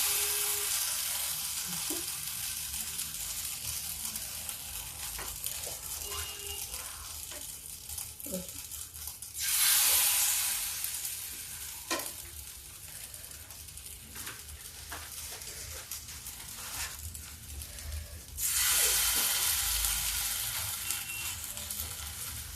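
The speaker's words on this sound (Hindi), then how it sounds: "अब ये थोड़ा सा स्लो आंच पे करारी भून जाए" Potato pieces dipped in rice flour frying in oil over a low flame, a steady soft sizzle throughout with occasional stirring clinks and two louder hissing surges.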